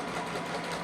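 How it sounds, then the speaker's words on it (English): A sewing machine stitching fabric at a quarter-inch seam allowance runs in a steady, quiet mechanical whir for under a second, with no voices over it. "Take it to the sewing machine."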